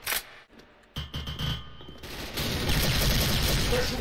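Rapid bursts of game gunfire from an M4A1 rifle in the shooter game Special Force crackle and rattle continuously, growing denser and louder after a brief lull, with a busy, chaotic texture.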